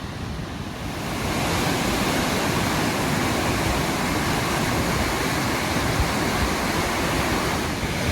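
Powerful rushing river water pouring past the old Victorian mill at Saltaire, a loud, steady broadband roar that swells after the first second and then holds constant, close and dominant with no voices.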